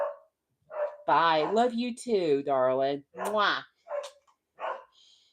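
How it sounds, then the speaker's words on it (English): A pet dog barks and yips in short, sharp bursts close by, mixed in with a person's speech and a kissing sound. "That's my dog."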